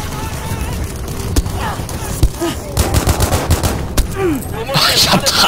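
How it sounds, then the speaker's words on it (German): Gunfire in the video game Battlefield V co-op mode on hard difficulty: dense fusillades of rapid shots and sharp bursts, loud and continuous, with players talking over the fighting. "Ich hab dreimal auf eine Leiche geschossen."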